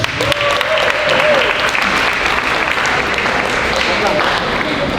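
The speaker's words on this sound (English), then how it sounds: "let's give a round of applause for the chairman" Applause for the chairman at a ward leadership council candidates' forum: steady, dense clapping from a crowd that fills the room at close range, with a voice faintly heard beneath it.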